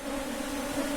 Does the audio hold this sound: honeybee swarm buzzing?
yes